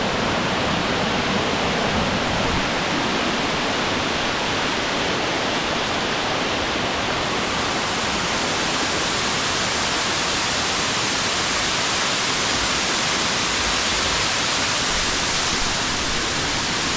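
A loud, steady roar of falling water rushes without a break, close by and filling the whole clip.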